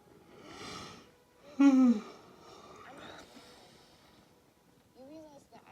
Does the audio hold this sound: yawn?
yes